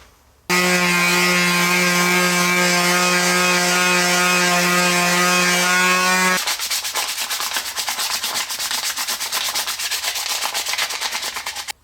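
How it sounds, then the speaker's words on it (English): A power sander whines steadily on a wooden base for a scrolled Christmas tree at close range, then gives way to rapid rough sanding strokes. "we're going to give this a good sanding as well"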